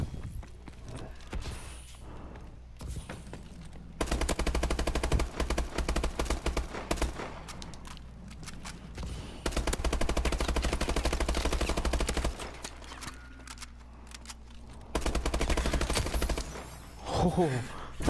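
Rapid machine gun fire in a video game, long sustained bursts of fast rattling shots with short pauses between, a voice speaking in the gaps.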